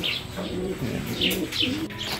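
Pigeons cooing in soft, repeated throaty bursts, close by, with a few faint chirps and rustling in the background.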